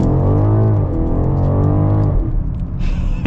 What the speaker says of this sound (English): we'll pretty much just do a proper acceleration down this lane and enjoy